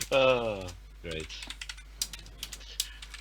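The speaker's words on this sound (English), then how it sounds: "This is the session note that I'm typing." Typing on a computer keyboard during an online tabletop game session, a run of quick, light, irregular key clicks close to the microphone, after a brief stretch of speech.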